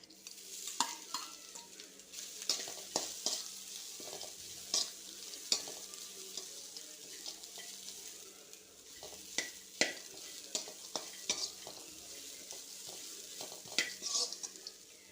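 Grated coconut stirred in a frying pan for an evening snack, with a soft steady sizzle under repeated scraping and light knocks of a spoon against the pan, close and moderately quiet, with no talking.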